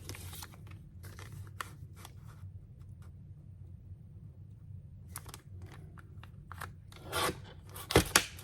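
Scissors cutting through an old greeting card, a series of crisp snips and papery crunches in irregular bursts with a quiet pause in the middle, close up and alone with no talk.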